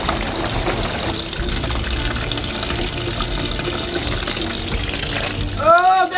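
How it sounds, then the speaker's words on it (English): Water sprays steadily against an RV window and door during a leak test, a continuous hissing wash close by, with a voice speaking briefly near the end. "Oh, I can see water right here."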